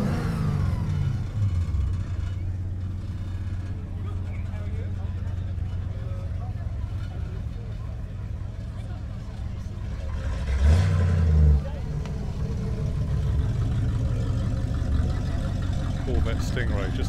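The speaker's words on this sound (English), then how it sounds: "Stingray, just listen to that." Corvette Stingray engine at an outdoor classic car show: a steady low engine rumble throughout, with a brief louder rev swelling in the middle, under ongoing chatter from people nearby.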